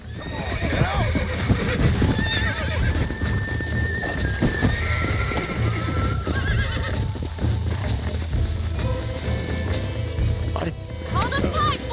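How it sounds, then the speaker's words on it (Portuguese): A horse in the video game Red Dead Redemption whinnies repeatedly over steady clip-clopping hooves, with game voices talking throughout and a background music bed. "O cavalo deve estar puto comigo."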